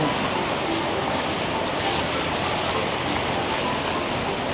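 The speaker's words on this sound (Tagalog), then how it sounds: "Lumakas na yung ulan." Heavy rain pours steadily in Sydney, a dense, even hiss of falling water that holds loud and unbroken throughout with no voices.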